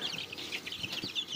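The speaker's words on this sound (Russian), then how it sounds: "Цыплята после пересадки в большой брудер." Chicks in a large brooder, just moved into it, cheep steadily in a dense flurry of high, quick peeps close by, with no talking.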